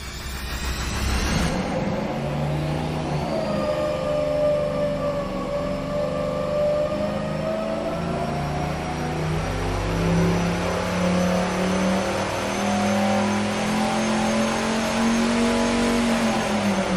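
Boosted engine running on a dynamometer, a loud sustained roar that climbs steadily in pitch as it pulls up through the revs, then holds near the top.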